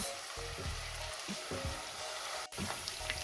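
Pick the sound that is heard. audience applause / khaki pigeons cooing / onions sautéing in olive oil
onions sautéing in olive oil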